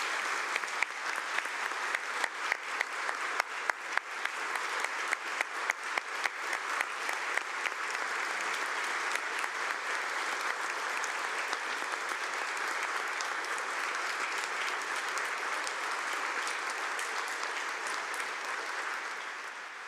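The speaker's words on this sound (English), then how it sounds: "Please give them a round of applause" Guests introduced at a joint legislative session in the Washington state chamber draw sustained applause from the lawmakers, with a few distinct sharp claps at first that merge into an even, distant-sounding roar of clapping lasting the full twenty seconds.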